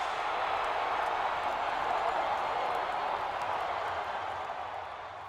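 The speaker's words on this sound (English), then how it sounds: "this crowd is just simply bonkers" A huge stadium crowd roars steadily after the Cardinals clinch the National League pennant with a 5-2 win, a dense, continuous wash of cheering and clapping that holds loud throughout and eases slightly at the end.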